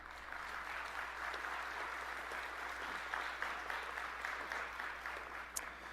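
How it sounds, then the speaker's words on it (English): Audience applause at a city State of the City event, with steady clapping from a crowd held at an even level throughout, heard at a moderate distance in an indoor recreation center hall. "Give them a round of applause, please."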